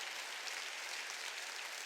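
Faint, distant applause from a church congregation during a Wednesday worship service, an even patter of clapping with no talk over it.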